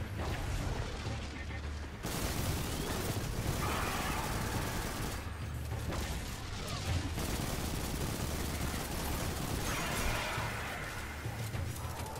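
Continuous gunfire and explosions in the video game Destiny 2, with dense sustained shooting that breaks off briefly and then resumes, loud and close.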